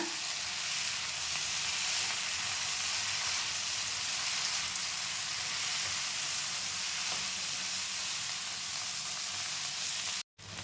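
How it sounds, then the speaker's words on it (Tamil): Four medium tomatoes sauté in a pan for thakkali chutney, making a dense, constant sizzle and crackle, close and steady throughout, with a sudden brief dropout just before the end. "தக்காளி நல்லா வணங்கிட்டு இருக்குங்க."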